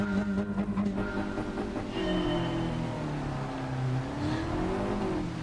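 A car engine in Gran Turismo 7 revs hard with a tonal, wavering whine that bounces off the rev limiter, sustained and close throughout with no talking.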